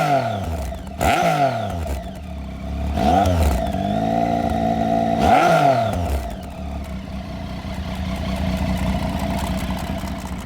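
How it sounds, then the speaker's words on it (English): A Triumph Tiger 800 motorcycle fitted with an aftermarket Arrow exhaust, idling with a steady rumble and a few blips of the throttle that rise and fall, heard close and alone. "I should let you hear the arrow exhaust."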